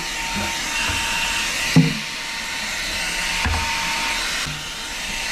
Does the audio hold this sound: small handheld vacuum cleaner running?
yes